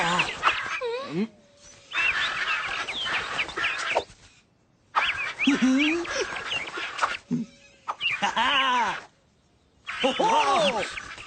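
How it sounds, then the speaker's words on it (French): Birds squawking in a pet shop in a Sally Bollywood cartoon episode, loud raucous cries and shrieks in several bursts separated by short pauses, close and harsh. "Les cris d'oiseaux me donnent mal à la tête."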